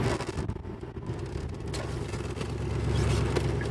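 A vehicle engine rumbles low and steady as it backs up, growing slightly louder toward the end, with no talking over it.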